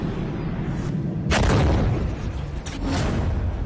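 An Iranian missile launch roars up in a loud, sudden rushing boom that swells and holds, then a second blast of noise follows, with no voices present.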